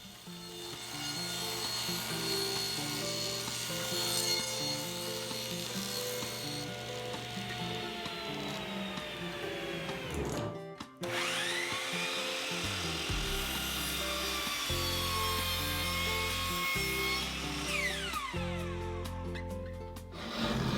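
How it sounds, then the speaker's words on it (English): A saw rips half-inch CDX plywood into 10-inch-wide side pieces, giving a steady, close grinding whine. The sound breaks off briefly near the middle, then the cut resumes. "For the sides of the rack, again I'm using 1/2 inch CDX plywood, and I'll rip 2 pieces at 10 inches."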